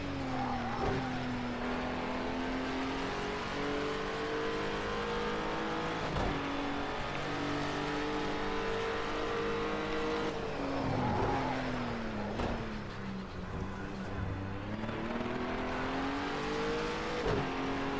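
A race car engine in a racing video game at Laguna Seca sounds loud and steady throughout, its pitch climbing and dropping through gear changes and corner exits, with a short squeal of tires partway through.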